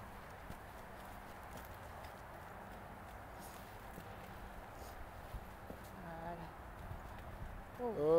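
Soft, steady clip-clop of a horse's hooves on the ground during jumping training, faint and rhythmic throughout, with a coach talking to the rider and a louder surge of movement at the very end.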